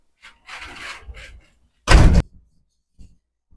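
A door is opened with some rustling and a creak, then a single loud thump from the door follows, and one soft knock comes later in an otherwise quiet room.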